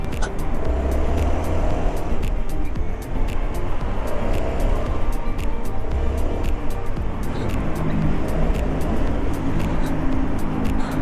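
A Honda ADV 350 scooter rides under power, its engine drone and wind roar loud and continuous throughout, with traffic noise mixed in.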